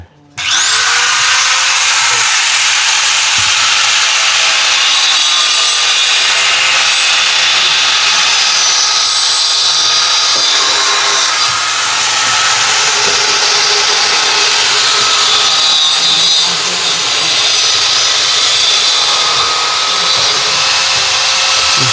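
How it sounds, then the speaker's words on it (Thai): Loud, continuous high-pitched grinding of a drill biting into a pipe, sustained for the whole stretch after a brief start-up, close by. "เจาะใส่ท่อมันเลย"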